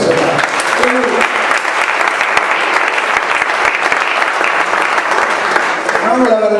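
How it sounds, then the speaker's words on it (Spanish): A Pentecostal church congregation applauds in worship, loud sustained clapping for several seconds with a voice speaking briefly at the start and again at the end. "¿Por qué no le das un aplauso al Señor?"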